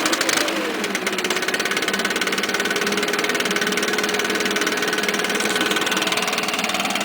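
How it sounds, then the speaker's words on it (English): A string trimmer's 4-mix engine runs steadily after choking and three primes, a loud, close, buzzing drone with a rapid even pulse and a slight pitch dip early on before holding constant, with no voices. "Gotta love your 4-mix motors."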